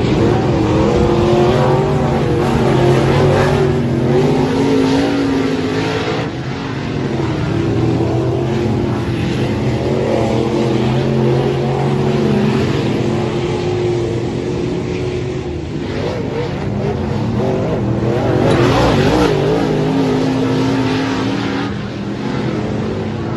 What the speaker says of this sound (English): We're gonna go ahead and do some hot lapping first.